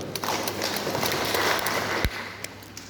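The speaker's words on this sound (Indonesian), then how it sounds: "Tepuk tangan situ." A crowd at a local anti-extortion outreach meeting in Koto VII breaks into applause, a dense, rain-like patter of many hands filling the room with one sharper knock partway through.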